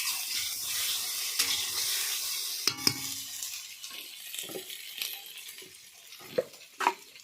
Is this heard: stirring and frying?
yes